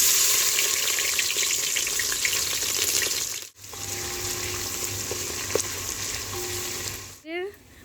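Chicken frying for kosha on an induction cooker on a balcony, with a steady close sizzle and faint scraping stirs, a brief cut midway, and a short rising squeak near the end.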